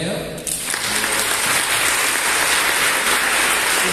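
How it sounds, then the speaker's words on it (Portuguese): A church congregation bursts into loud sustained applause during a sermon, a dense even wash of clapping that starts abruptly and holds steady. "Uma aplaudia a fé dela."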